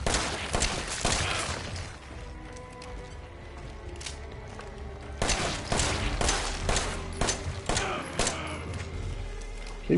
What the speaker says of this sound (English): Keep shooting the foofa.